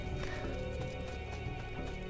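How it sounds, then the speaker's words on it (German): Pony hooves clip-clop at a quick, regular pace in the video game Assassin's Creed 2. The sound is fairly quiet and steady, with no speech. "Ein Pony."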